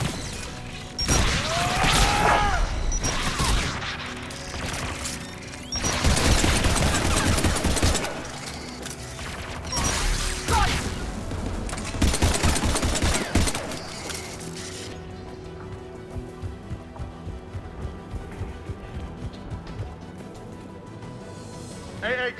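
Anti-aircraft guns firing in Mass Effect 3, heavy repeated booming blasts in loud clusters through the first fifteen seconds, then softer rhythmic mechanical pulses, with voices and battle noise around.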